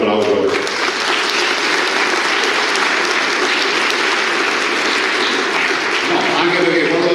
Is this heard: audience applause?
yes